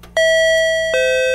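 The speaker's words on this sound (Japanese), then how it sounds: "インターホンに出る。" An intercom doorbell chime in a horror video game rings out as two clean, loud electronic tones, the first sustained and the second slightly lower, with no voices over them.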